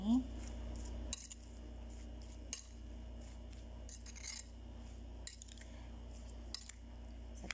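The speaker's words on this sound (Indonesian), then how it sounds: "Lalu kita aduk-aduk ini acar kita ini ya" A spoon stirring vegetable pickle (acar) in a bowl gives faint, sporadic clinks and scrapes spread over a quiet background hum.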